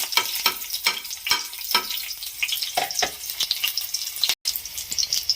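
Garlic and onion sizzle and fry in a hot pan, with repeated scraping stirs giving bursts of crackle over a steady hiss, close and fairly loud with no talk.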